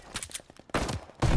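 Gunfire in the shooter Call of Duty: Vanguard: a quick rattle of several shots followed by two louder, dense bursts close up, with no talk.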